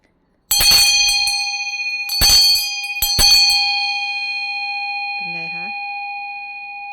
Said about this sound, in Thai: การันตีเรื่องของความกังวานจริงๆนะคะสำหรับเซตของระฆัง